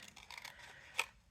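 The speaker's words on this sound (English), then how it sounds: "I'm going to use my little scissors." Small scissors snip through decorative craft paper, a few faint soft cuts followed by one sharper, clearer snip, close up and quiet.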